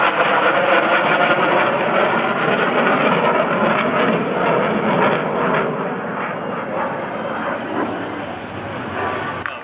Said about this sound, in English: Cameras on the Helldiver, keep your lenses wide, because it is time for the sneak pass.